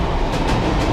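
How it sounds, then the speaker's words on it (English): A train passes close by on a city street. It produces a loud, dense rumble with rhythmic wheel clatter and no other sounds. "That's a train."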